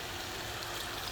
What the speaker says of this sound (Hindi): इसमें मैं पानी डालती हूँ